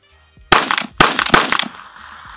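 A Kel Tec PMR30 pistol fires a rapid string of sharp shots, loud and close, in three quick clusters over about a second, with ringing echo trailing off outdoors.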